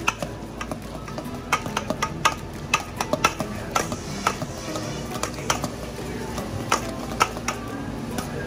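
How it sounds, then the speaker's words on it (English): Eggs and cheese being stirred into a lobster carbonara sauce, with a steady run of light clicking utensil-on-pan taps repeating close by throughout. "Boom, right in and stir and stir and stir."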